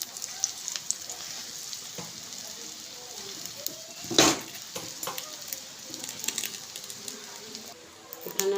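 Flatbreads fry gently in oil over a low flame, a soft, steady hiss with light crackles and one louder spluttering burst midway, while a person talks at times.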